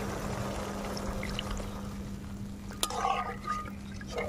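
Water pours into fried masala in a pan for a kofta curry, a quiet, short splash and gurgle after a sharp knock, over a low steady hiss.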